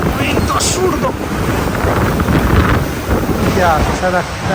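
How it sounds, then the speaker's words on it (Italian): Strong wind buffets a camper van during a storm, roaring against the microphone in a loud, constant rush, with a voice speaking briefly over it. "C'è un vento assurdo."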